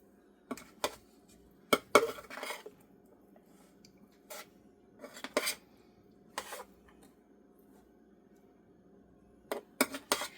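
A spoon stirring Appalachian cornbread stuffing ingredients in a pan makes scattered scrapes and light clinks in irregular clusters, with quiet pauses between strokes.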